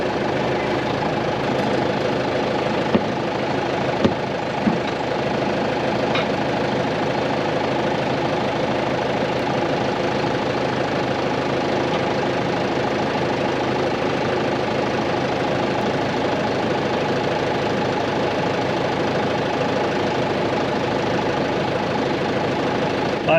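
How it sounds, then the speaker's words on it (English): A farm loader's engine runs at a steady, even idle throughout, a constant mid-low drone with only a couple of faint clicks and knocks along the way. "Right, loader's on."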